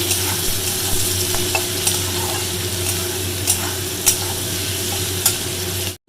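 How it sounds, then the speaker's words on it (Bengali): Potatoes frying in a pan at home, a steady close sizzle with occasional clinks of stirring throughout, no talking. "আলু ভাজা"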